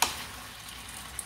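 String beans for adobong sitaw stirred in a pan give a brief scrape at the start, then a soft, steady sizzle and a small clink near the end, close up with no talk.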